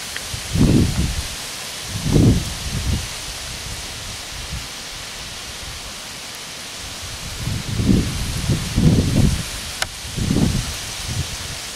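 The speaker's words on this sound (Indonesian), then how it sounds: "Anginnya kuat banget mas bro." Strong wind gusts rush past outdoors at a fishing spot, swelling into several broad roaring bursts over a constant hiss of background noise, with no talking.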